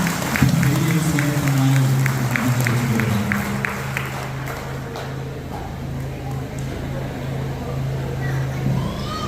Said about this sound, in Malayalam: നമുക്ക് നല്ലൊരു കയ്യടി കൊച്ചിന് കൊടുക്കാം